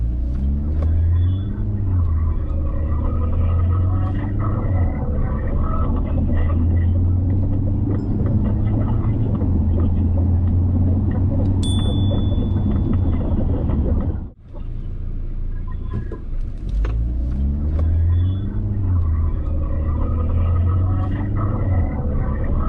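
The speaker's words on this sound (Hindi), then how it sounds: "So let's first do the 0 to 100 km speed test" A 2024 Mahindra XUV700 AX7L with luxury pack runs a 0 to 100 km/h acceleration test, a steady loud engine rumble with rising harmonic sweeps, a brief dip near the middle, then building again.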